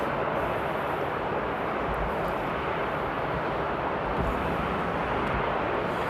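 Jet airliners, a Qatar Boeing 777-200LR and a 787, taxiing at Amsterdam Airport after a storm; a steady, broad engine roar with wind noise, distant and continuous throughout.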